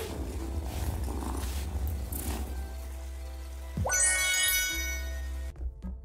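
A soft, rumbling cat purr from the video game Wylde Flowers runs for a few seconds, then a brighter game-style chime sweeps in before the sound cuts off.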